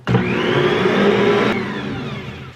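An electric mixer whirs steadily as it mixes bread dough with 4 to 5 cups of flour, a loud, close motor whine that starts suddenly, holds for about two seconds and then winds down.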